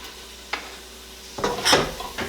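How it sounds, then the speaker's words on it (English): Chopped leeks tipped into melted butter in a big soup pot, giving a soft sizzle with a few scraping stirs and utensil clinks, loudest toward the end. "I'm going to add my 2 chopped leeks into that."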